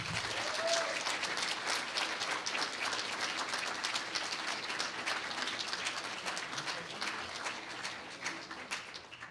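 An audience at a human rights awards breakfast gives a long round of applause for an honoree, a thick, even wash of many hands clapping that fades slightly toward the end.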